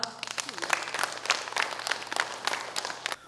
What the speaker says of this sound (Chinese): 用掌声来欢迎我们的那个基点港都电视台，好不好？